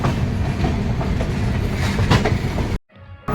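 A Ranchi–Howrah Shatabdi Express train rumbles and clatters steadily on the tracks at a railway platform, then the noise cuts off abruptly near the end.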